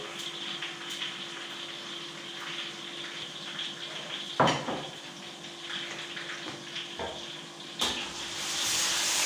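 Chopped green chilies, cumin and black pepper fry in a pan with a steady, hissing sizzle, broken by a couple of sharp clatters partway through.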